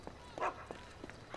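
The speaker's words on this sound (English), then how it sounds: "What you barking for, puppy?" A dog in Grand Theft Auto V gives a few short, faint yips and barks in quick succession, distant and thin over a noisy background hiss.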